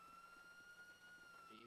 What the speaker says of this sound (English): Lieutenant Green, can you turn off the goddamn sirens?